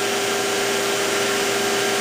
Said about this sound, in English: I'm ready to turn the vacuum on. So I push the vacuum on button.